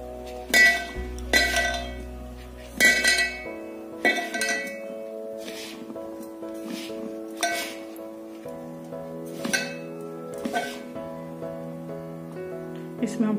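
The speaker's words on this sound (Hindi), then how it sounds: "आटा हम डाल रहे हैं, ये इलायची पाउडर। अब हम इसको मिक्स करेंगे।" Spoon clinking against a bowl while mixing sweet potato batter with flour and cardamom powder, a series of sharp metallic taps and clinks at irregular intervals, with a low hum underneath.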